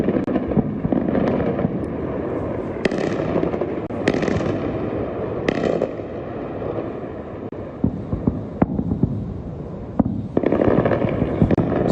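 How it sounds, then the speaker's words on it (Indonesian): Explosions from an Israeli airstrike on Tehran targeting weapons production sites, heard as a loud, rumbling barrage with repeated sharp blasts and cracks over a constant roar, plus wind buffeting and no talk. "Serangan udara Israel ke Teheran"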